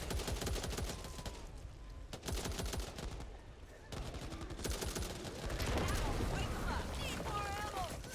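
Gunfire in the zombie shooter Back 4 Blood, rapid rattling bursts of automatic shots mixed with single reports, fairly faint overall, with voices calling out over the shooting.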